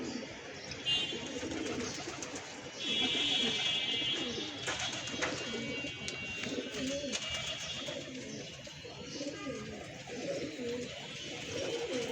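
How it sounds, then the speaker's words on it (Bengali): Pigeons coo in repeated soft, low rounds outdoors while being given food, with occasional wing flaps and scattered chirps over a steady background. "আজকে আমার কবুতরগুলো বাইরে একটু ছাড়া আছে এগুলোকে হালকা পাতলা খাবার দিব"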